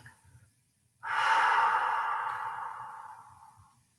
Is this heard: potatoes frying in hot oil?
no